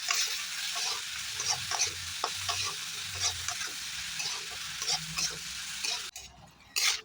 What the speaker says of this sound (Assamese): এতিয়া এইখিনি ভাজি ল'ম ধুনীয়াকৈ।